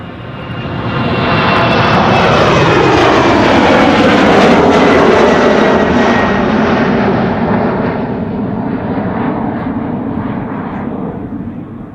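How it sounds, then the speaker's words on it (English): A KLM Cityhopper Embraer jet departs Amsterdam Schiphol in a crosswind, its engines building to a loud roar, then fading as it climbs away into the distance. "This is KLM flight 963 to Teesside, aka Darlington. And that's a Britty Hopper."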